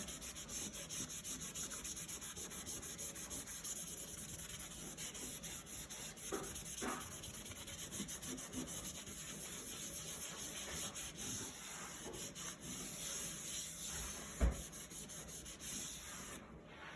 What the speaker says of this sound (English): get your tissue and rub it all together